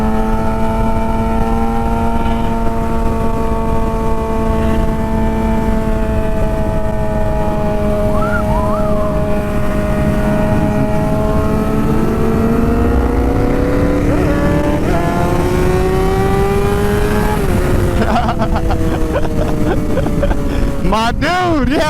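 A Volkswagen car engine revs up hard, loud and close, with a sustained droning tone that climbs in pitch as it accelerates, then settles and rises again toward the end.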